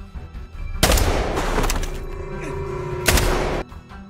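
Gunfire erupts in a gangster action film scene, loud bursts of rapid shots with a sharp onset, a sustained rattling barrage, then a second heavy volley before it cuts off.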